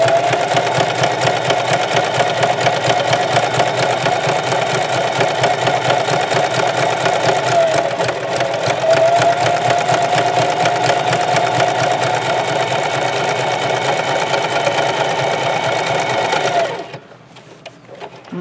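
A sewing machine runs a zigzag stitch at stitch length 2 and width about 5 on a placemat tote, a loud, fast, steady mechanical chatter that stops abruptly near the end.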